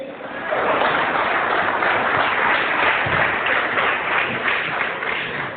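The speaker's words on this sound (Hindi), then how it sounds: "उनके लिए जोरदार ताली होना चाहिए" A seminar audience gives sustained applause, a dense wash of many hands clapping together that holds steady for several seconds.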